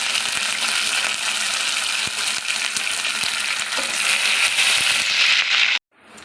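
Potatoes frying in hot oil with crushed garlic and curry leaves, a steady dense sizzle with scattered crackles and pops that runs continuously, then cuts off abruptly near the end.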